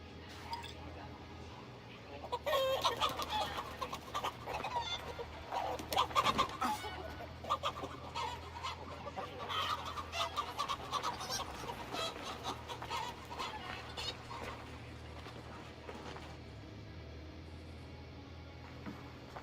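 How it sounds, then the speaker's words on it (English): Chickens in Assassin's Creed Valhalla cluck in scattered bursts against a low game hum, the clucks bunching and rising mid-way before thinning out, with some talk mixed in. "Chasing chickens and being chased by chickens."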